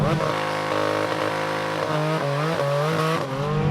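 A 2022 Porsche 718 Cayman GT4 RS with a naturally aspirated 4-liter flat-six launches hard and accelerates, its loud, rising engine howl climbing through gears with brief dips at shifts, continuous and close throughout.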